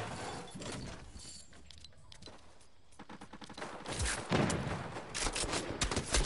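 Gunfire in the Fortnite battle royale game, a scattered fusillade of shots mixed with game sounds and music, growing denser and louder toward the end.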